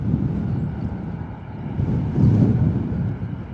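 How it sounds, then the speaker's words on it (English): An EasyJet Airbus A320 lines up on runway 27 at Bristol Airport, its low, steady engine rumble mixed with buffeting wind noise on the microphone, swelling slightly toward the end. "A320 lining up on runway"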